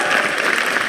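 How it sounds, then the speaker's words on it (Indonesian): A crowd claps for performer Akbar at a university event, a short burst of dense, steady applause that is fairly loud and carries no clear speech. "Langsung tepuk tangan saja untuk Akbar"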